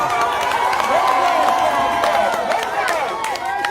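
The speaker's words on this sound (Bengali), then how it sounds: "দর্শকবৃন্দ আপনারা হাততালির মাধ্যমে অভিনন্দন জানান।" A crowd at a village boat race competition keeps up continuous loud cheering and clapping, with excited voices shouting throughout.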